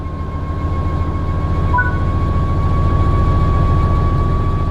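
An electric train in Train Sim World 3 accelerates under power with a steady low traction rumble and a sustained whining motor tone that holds level, loud and continuous throughout.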